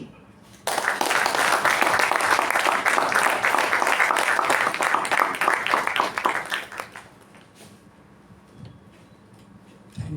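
Applause at a Toastmasters club meeting, with a room of people clapping in a burst for about six seconds and then stopping abruptly into quiet room noise.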